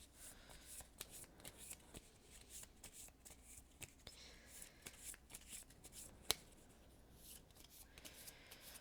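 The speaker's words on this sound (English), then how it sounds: "So I've got my discard pile, I've got my deck, so I'll reshuffle." A deck of playing cards from the Veilwraith card game is reshuffled by hand in a quiet room, with a run of soft riffling bursts and light snaps repeating over several seconds, fairly close.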